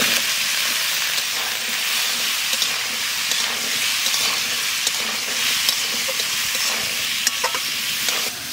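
Soaked raw chickpeas fry in a hot pan with a loud, continuous sizzle and hiss, broken by small crackles and the scrape of stirring, with no talking.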